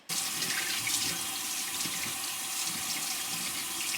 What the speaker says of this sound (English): So I'm gonna turn on the water and do that.